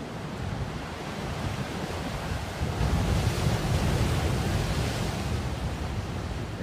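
Ocean waves and surf wash steadily, close and fairly loud, with wind buffeting the microphone and a slight swell midway; no voices are heard.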